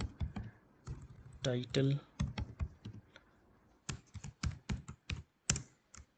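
Fingers tap out bursts of clicks on a computer keyboard while someone codes an Angular page, the quiet clatter coming in uneven runs between stretches of someone talking.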